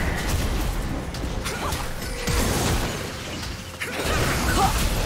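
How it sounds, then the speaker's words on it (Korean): A turret crumbling in a League of Legends match as Sett plays mid against Lucian: loud crashing, bursting game effects with a rumbling low end run through the whole clip, under steady game noise. "빨간 팀의 포탑이 파괴되었습니다"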